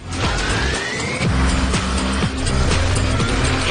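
A 290-horsepower Hyundai Sonata N Line engine roars loudly in a television advert, revving hard with tire squeal and skidding over a continuous dense driving soundtrack, no talking.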